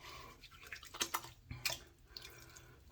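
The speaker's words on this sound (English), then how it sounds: "Let's go ahead and rinse off. This nice dense lather off the face." Water splashing as shaving lather is rinsed off a face at a sink, a few irregular close splashes and drips at low level, with no voices.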